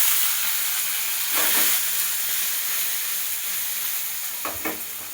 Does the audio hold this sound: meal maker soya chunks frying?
yes